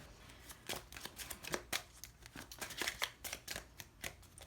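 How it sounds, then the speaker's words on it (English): A deck of Kipper cards is shuffled by hand, giving a quick run of crisp, irregular riffling snaps and flutters, close and fairly quiet, with no talk. "I'm going to pull Kipper cards here."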